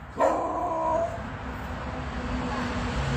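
A small dog gives one sharp, fairly close bark followed by a brief whining tail, then quiet room background.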